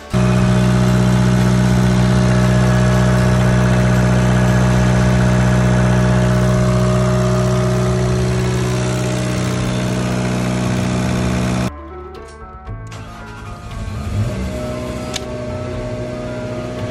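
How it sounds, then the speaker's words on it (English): A Westerbeke boat generator runs with a loud, steady low drone and strong harmonic hum for about twelve seconds, then cuts out abruptly, followed by quieter clunks and a softer rumble. "I finally have a properly working generator."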